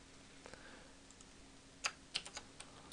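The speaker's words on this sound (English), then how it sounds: "you can copy or you can type it out down here." Computer keyboard typing while coding an Android tic-tac-toe tutorial, a few quiet sparse key clicks with short pauses, close and faint, with no talking.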